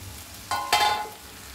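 Duck meat sizzles briefly in a hot pan, with two quick bursts of crackling as it is stirred, close and fairly quiet.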